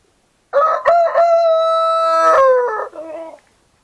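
A rooster crows once, loud and close, a long harmonic call with a falling tail, in a coop where hens that have started laying were moved in with the younger birds.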